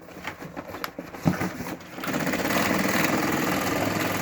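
A sewing machine stitching through wire mesh, first in short irregular bursts, then settling into a continuous loud running whir for the second half.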